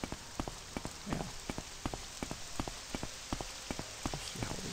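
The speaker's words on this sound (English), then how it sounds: "it's raining" Rain in the video game Morrowind, a steady close patter with rhythmic sharp drops tapping across the whole stretch, no talking.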